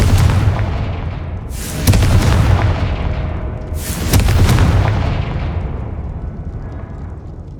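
Fiery spell explosions from the Confringo curse in Hogwarts Legacy: two loud booming blasts, each a broadband burst followed by a long rumbling decay, with no talking.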